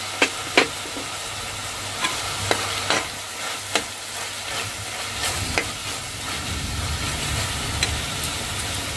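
Capsicum tossed into a pan and stir-fried for ridge gourd rice, with a steady sizzle under sharp scraping and clacking strokes of a spatula at irregular intervals, close and moderately loud, no talking.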